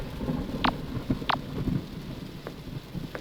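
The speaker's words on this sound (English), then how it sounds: "It's probably this rain." Rain and thunder in the horror dating game Sucker for Love, a steady wash of rainfall with a couple of sharp crackling strikes and low rumbles, with no talking.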